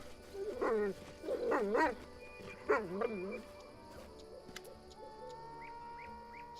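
Dog in the video game Pathfinder: Kingmaker giving three quick whiny barks, fairly close, followed by faint bird chirps and ambient game sounds.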